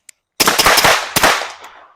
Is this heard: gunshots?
yes